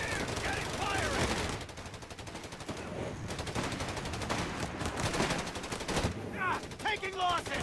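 Machine guns rattle in rapid bursts amid scattered gunshots during a Company of Heroes 3 battle, loud and continuous with brief lulls, with voices breaking in near the end.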